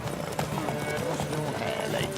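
Horse hooves gallop steadily through a race in the video game Witcher 3: Wild Hunt, a dense drumming of clip-clops mixed under voices and background music.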